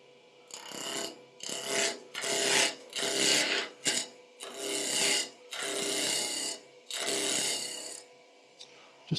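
A wood lathe turns a peppermill blank, the tool cutting in a string of loud, broad bursts of about a second each, separated by short pauses, close up and with no talking.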